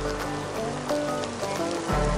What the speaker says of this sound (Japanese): めっちゃ雨降ってきました、これ